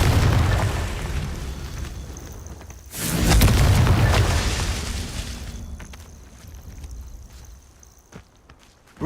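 Confringo fire-blast spell going off in the video game Hogwarts Legacy: a loud booming explosive burst around the middle, rumbling and fading, with fainter pops and footsteps in the game ambience before and after.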